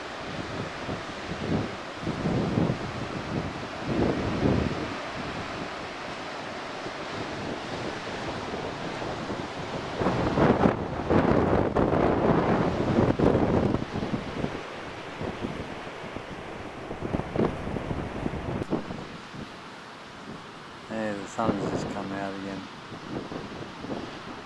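Wind and surf roll along an empty, cold stretch of beach near Friendly Beaches, a steady broad roar of breaking waves and gusts buffeting the microphone, swelling louder midway before easing.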